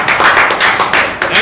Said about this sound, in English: Now you get applause.